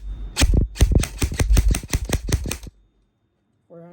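An E&C 867SE airsoft rifle fires a rapid full-auto burst of about fourteen sharp, evenly spaced shots, close and loud. The burst lasts under three seconds and ends abruptly in silence, followed by a short electronic beep.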